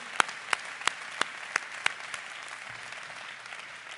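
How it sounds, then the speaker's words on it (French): Audience applause at a Monaco political candidate's event, a dense clapping wash punctuated by several sharp, regularly spaced claps from one nearby person, fading gradually toward the end. "Je vous demande de bien vouloir l'applaudir très chaleureusement."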